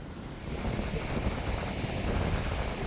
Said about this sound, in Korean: 파도가 원래 이렇게 센가 봐요 저는 바람이 많이 불어가지고 파도가 센 건 줄 알았는데